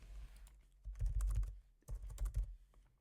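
Quick bursts of typing on a computer keyboard, close and crisp, in two short clusters of rapid key clicks separated by brief pauses.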